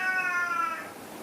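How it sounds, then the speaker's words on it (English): A house cat gives a single drawn-out meow, clear and close, fading at the end, heard alone in a quiet room. "That's my cat."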